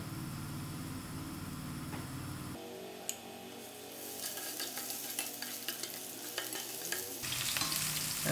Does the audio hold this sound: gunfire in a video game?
no